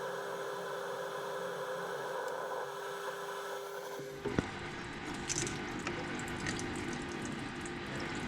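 Coolant switched on at a lathe during machining of a Fendt tractor PTO housing: a shop hum gives way after a small clunk to a steady, close wash of running liquid that continues evenly, with no talking.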